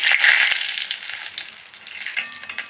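Whole spices for tempering (dried red chilli, a little cumin, cardamom, cloves, a piece of cinnamon and a bay leaf) fry in hot oil with a steady, bright crackling sizzle that is loudest at first and then eases.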